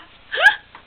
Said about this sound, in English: We're getting rid of the hiccups.